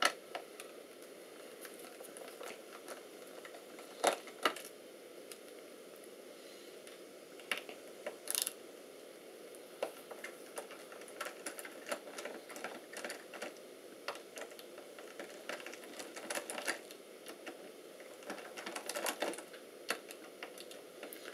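Small screws being worked out of an Alienware Area-51m laptop's video card heat shroud produce faint, close ratcheting clicks and light metallic ticks, scattered in irregular bursts against a quiet background.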